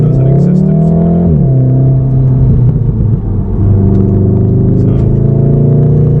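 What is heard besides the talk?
VW Golf R MK7.5 engine accelerating in race mode, CTS turbo intake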